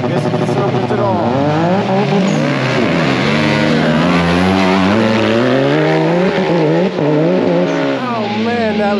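Race vehicles compete at the Durhamtown off-road park, their engines loud and revving in overlapping, rising and falling tones, with possible skids, close and continuous.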